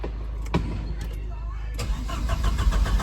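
A 1985.5 Porsche 944 engine cranks, with a couple of sharp clicks before it, then catches and settles into a rough, uneven idle that grows steadily louder.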